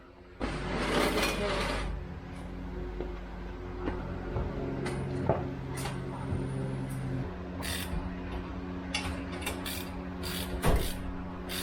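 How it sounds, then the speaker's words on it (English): A stuck brake rotor is worked off a turbo Toyota Corolla during a brake upgrade, with a scraping metal grind at first, then scattered knocks, clanks and a sharp bang near the end over a garage hum. "Just got the rotor to pop off."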